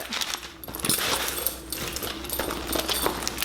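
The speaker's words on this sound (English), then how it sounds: "I'm gonna take all this paper out of it." Packing paper pulled from a newly bought bag, giving a run of busy crinkling and rustling bursts, close and fairly loud, with no talk over it.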